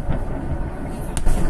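Explosions in Dzhankoi rumble as a dense, continuous roar with sharp cracks near the end, loud and close, recorded outdoors.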